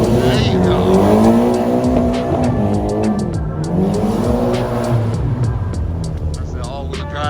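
Dodge Charger 392 Scat Pack drifting in snow, its V8 revving hard with sweeping pitch swings as the tires spin and slide, loud and close, with people talking and shouting over the engine.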